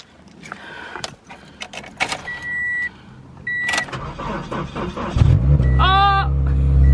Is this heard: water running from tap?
no